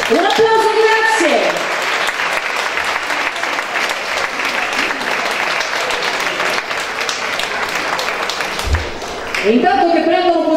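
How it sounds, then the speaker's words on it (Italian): Audience applause for a dance school at a ballroom dance show in Rome, a dense, steady wash of clapping sustained for most of the stretch, with music and a voice briefly heard at the start and end. "Un applauso, grazie."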